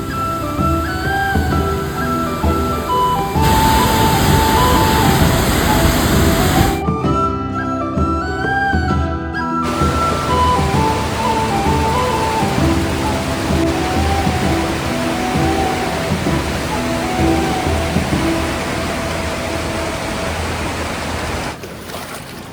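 Loud, continuous rush of the monsoon-swollen Bhagirathi River at Gangotri, churning water and spray, a broad roar that holds steady throughout.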